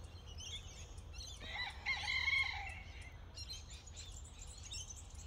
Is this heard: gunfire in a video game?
no